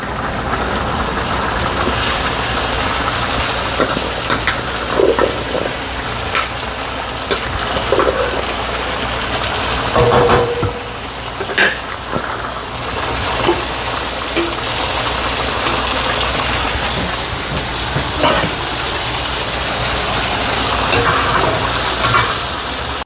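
Onions sautéing in a pan, a steady close hiss and crackle that runs continuously without pause, with no talking over it.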